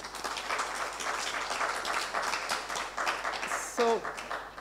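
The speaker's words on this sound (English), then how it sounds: "Let's give the presenter another round of applause." Evening lecture audience applauds the presenter with steady, moderately loud clapping throughout, and a brief voice cuts in near the end.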